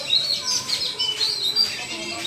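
Birds chirping outdoors under darkening cloudy skies, a series of thin bright tweets repeating across the moment, moderately close over a soft background hum.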